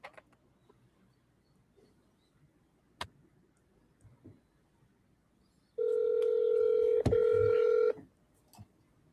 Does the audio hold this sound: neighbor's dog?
no